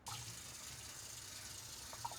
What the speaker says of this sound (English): Okay, and then I'm just gonna run water.